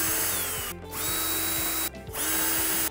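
A power drill drives screws into the plastic body of a Polaris Vac-Sweep 3900 Sport pool cleaner. It whirs steadily and close up in three runs, with two short pauses between them and no talk.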